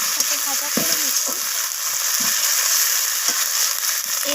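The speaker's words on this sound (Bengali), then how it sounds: "টমেটোটা দিয়ে আমি পেঁয়াজ আর টমেটো আবারও একসাথে ভাজা করে নিচ্ছি।" Onions and tomatoes fry together in a pan, with a steady hiss of sizzling oil running throughout and a few scraping stirs of a spatula scattered across it.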